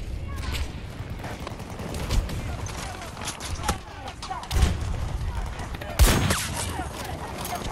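Sniper rifle fire in Battlefield 2042 gives a few sharp, booming shots spaced seconds apart, heard over a constant bed of battlefield gunfire and noise, with a voice talking throughout.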